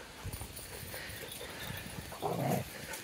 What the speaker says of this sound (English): Bringing the dogs out to see the new trail.